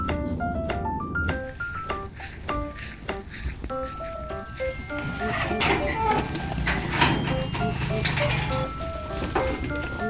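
Goats bleat in a backyard pen, several short calls scattered across the clip, with occasional metallic clinks from a can of ripe papaya being brought to them, over a busy outdoor background.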